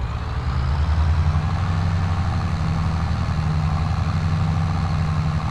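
A Fendt MT tracked tractor in Farming Simulator 22 runs at full throttle. Its heavy engine drone holds steady and loud throughout, with a deep rumble and no pauses.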